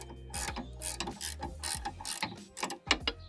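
A 17 mm ratchet wrench loosens the drop link nut on an R56 Mini Cooper with a quick run of close, rapid clicking and ratcheting, in short bursts with brief pauses.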